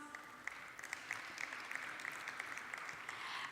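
Conference audience applauds the African Union Commissioner at a high-level panel, a steady, moderately distant clapping from a large crowd that holds evenly and swells slightly at the end, with no speech.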